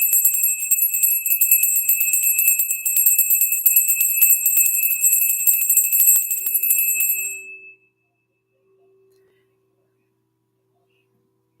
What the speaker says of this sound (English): we're going to ring the solar plexus bell.